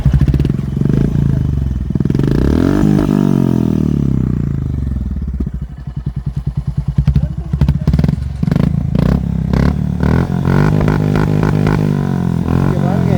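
Motorbike engine running on a ride around Munnar, a steady loud drone with rising and falling pitch, clattering rattles and brief thumps mixed in throughout.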